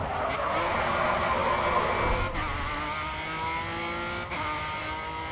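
Engine of a Volvo race car in the racing game Grid 2, a thin, buzzing whine that rises and shifts with gear changes, mixed with tire noise and no talking.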